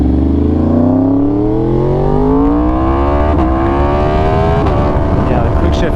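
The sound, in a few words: Yamaha R1 motorcycle engine while riding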